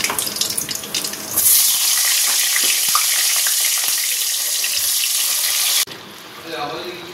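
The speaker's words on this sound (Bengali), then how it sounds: "এবার বেগুনগুলো ভেজে নেব।" Eggplant pieces fry in a pan with a loud, dense, steady sizzle lasting several seconds, then the hiss drops off sharply near the end, leaving quieter sputtering.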